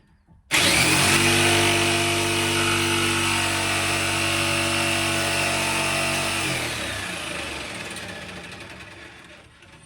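A power saw with a 1/16 wood blade starts abruptly and runs loud and steady for several seconds, its harsh whine tapering off near the end as the cut finishes.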